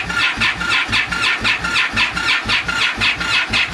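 An Indian Scout motorcycle engine cranks over repeatedly with a rapid, even rhythmic churn, struggling to start and never catching, loud and close.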